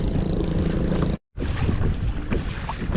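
Strong wind buffets a pedal-driven fishing boat out on open water, a steady loud rushing roar with microphone wind noise, briefly cut by a moment of silence.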